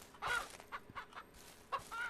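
Hens cluck in short bursts on a farm in the Ranch Sim video game, several separate bird calls spaced across a couple of seconds at moderate, fairly close volume with no talking.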